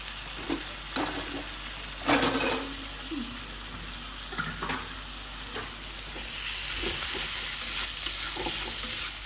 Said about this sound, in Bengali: মশলাগুলো সাতলা নিও